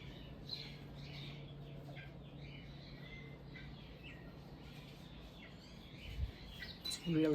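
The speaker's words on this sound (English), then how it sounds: "I'm not talking much so that you can hear the birds." Outdoor morning birdsong with several birds chirping and trilling at a distance, over a steady low hum, with a few soft bumps near the end.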